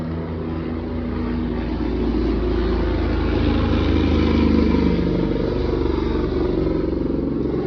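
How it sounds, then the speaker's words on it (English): A loud, steady low rotor drone of a helicopter passing overhead, swelling slightly in the middle and holding strong throughout with no voices. "As the helicopter is flying by"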